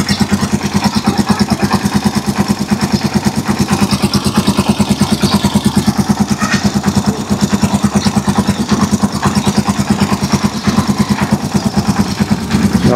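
A Rusi Chariot 175 motorcycle engine idles while warming up, a steady rapid single-cylinder putter running loud and close without pause.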